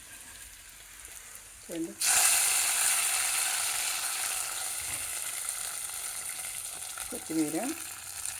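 Tempering (talimpu) for pongal hits hot oil and bursts into a loud, sudden sizzle that keeps frying steadily, with a voice speaking briefly before and near the end.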